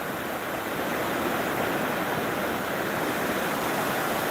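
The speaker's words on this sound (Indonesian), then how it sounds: "ini namanya Pantai Wisata Islami Kuthang atau Pantai Wisata Islami Tringgading" Waves wash continuously onto the shore at Kuthang Islamic tourism beach in Tringgading, a soft, even roar heard from a distance with no voices or breaks.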